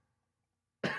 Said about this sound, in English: I cough every time I talk.